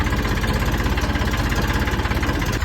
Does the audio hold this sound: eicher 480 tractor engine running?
yes